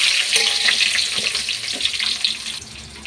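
Onions hit hot oil seasoned with mustard seeds and fenugreek for a South Indian kara kuzhambu, giving a steady, close hiss of sizzling with faint crackles throughout.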